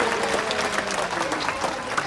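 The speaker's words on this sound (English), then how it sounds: "You can give him a clap if you like." A crowd at Sydney zoo applauds an animal named Moby during a show, a continuous, fairly close wash of many hands clapping with scattered sharper claps standing out.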